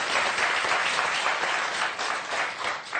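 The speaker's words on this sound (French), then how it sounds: "Et des applaudissements, mais alors encore plus forts pour Vincent et Miloud." Applause from the studio audience of a French word game show, a dense, even wash of many hands clapping at steady loudness, with no voices over it.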